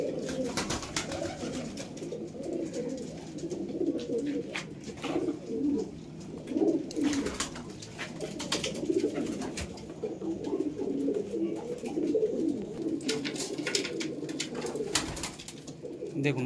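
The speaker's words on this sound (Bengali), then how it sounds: "দেখুন মাদি পায়রার চোখ দেখুন" A low, pulsing coo from a female pigeon in a home breeding loft runs nearly nonstop, close and fairly loud, broken by occasional sharp rustling and flapping bursts.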